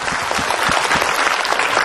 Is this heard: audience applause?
yes